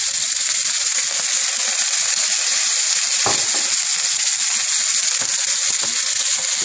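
Oil sizzles and fries loudly and steadily in a pan while an eggplant roulade with gizzards and mushrooms is being cooked. The close, constant hiss has a few faint crackles and no voices.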